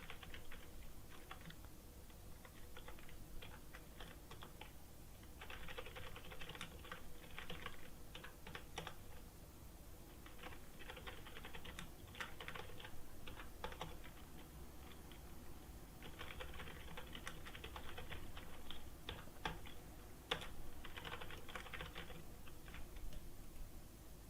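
Steady typing on a computer keyboard while writing jQuery form validation code, a faint continuous patter of keystrokes with brief pauses and clusters of faster clicks, over a low hiss with no voices.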